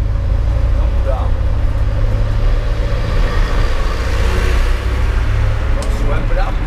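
Heavy road traffic with a steady stream of passing cars, a loud continuous rumble and engine drone that never lets up, with faint horn-like tones briefly rising above it.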